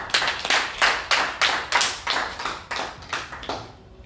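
A church congregation clapping in unison to acclaim Jesus, about a dozen sharp, evenly spaced claps in a steady rhythm that fades at the end.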